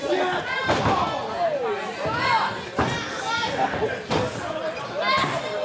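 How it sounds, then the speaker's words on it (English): Several hard slams and thuds ring out in a wrestling ring as a chair is thrown out of it during an independent Carolina championship match, with a lively crowd chattering and cheering throughout. "That chair thrown out of the ring."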